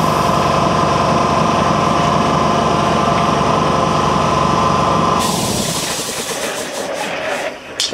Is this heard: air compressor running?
yes